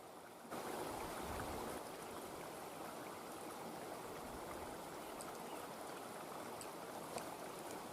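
Spring creek water flowing steadily in a constant broadband rush, close and even throughout with no voices, faint overall level.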